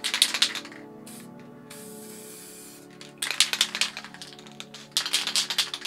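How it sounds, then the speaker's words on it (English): Spray paint can hissing through a stock cap in bursts, several short sharp sprays separated by a longer softer hiss, close and fairly quiet. "So I'll just pour some paint through this stock cap."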